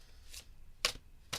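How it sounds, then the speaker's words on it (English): Tarot cards being shuffled by hand in three quick riffled bursts, each a short crisp flutter separated by quiet pauses, close and fairly soft. "So, here are your 3 official shuffles"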